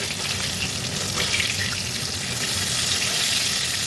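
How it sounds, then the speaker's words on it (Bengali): Fish sizzling as it fries in a pan until red and crisp, a loud, steady, close hiss and crackle that runs the whole time without a break. "আমি একটু লাল লাল করে কড়া কড়া করেই ভাজি মাছ"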